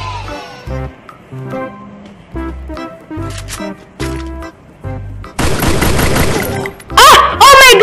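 Gunfire crackles through a shooting video game in short rhythmic bursts of shots, building into a dense loud volley near the end, with game effects sweeping over the top.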